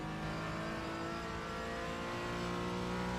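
Race car engine from the iRacing sim, a GT4 car in a 24-hour race at the Nürburgring Nordschleife, droning steadily and loudly throughout with a continuous mid-pitched tone and no talk.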